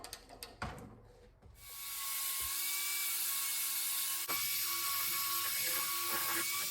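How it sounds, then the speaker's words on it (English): A flap disc on an angle grinder grinds and smooths the steel of a roll-around workbench, a steady loud whine held for several seconds after a few short clanks and a spin-up, with one brief bump in the grinding partway through. "now we'll change to the flapper disc"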